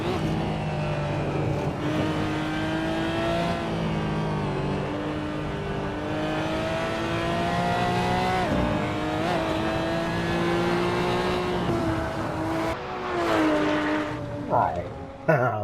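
A Porsche Cayman GT4 engine drives in the Assetto Corsa racing game, holding a steady harmonic drone that rises and falls through gear changes, with a sharp rev swing near the end.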